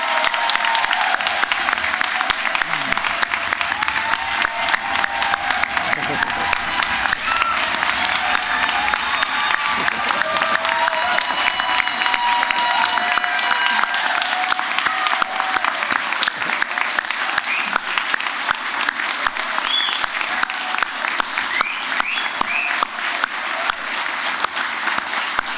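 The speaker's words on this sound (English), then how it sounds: "I would hope everybody could join me in a round of applause for our amazing graduates" A large audience at a fall university convocation applauds the graduates in a long, sustained burst of dense clapping, steady throughout, with scattered shouts and cheers mixed in.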